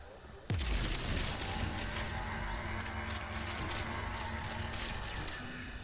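Video game combat in Mass Effect 3: after a brief quiet, a loud burst of rapid gunfire erupts and continues as sustained, dense shooting with rumbling low-end, steady and close throughout.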